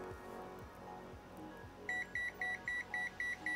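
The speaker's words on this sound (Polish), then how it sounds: "Przy 10 amperach włącza się alarm na tym multimetrze." An ANENG AN870 digital multimeter sounds its overcurrent alarm at 10 amps: a steady train of about eight short, evenly spaced electronic beeps starting partway in, clear over a faint background hum.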